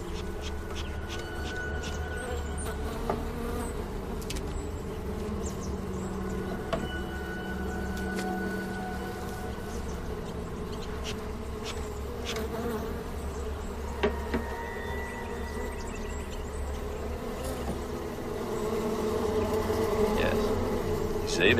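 Bees buzz steadily around a dilapidated, crowded hive, a dense continuous drone lasting throughout and swelling slightly louder near the end, with no talk over it.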